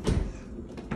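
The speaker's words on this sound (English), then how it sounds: "Just slide the door" Sliding barn-style door on a rail outside the wall being pushed along, a short rolling scrape with a couple of soft knocks, close by, no talking.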